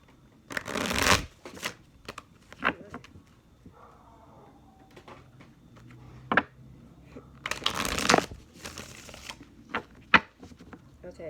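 A handmade tarot card deck is shuffled in several quick riffling bursts, close and crisp, separated by softer handling rustles and taps.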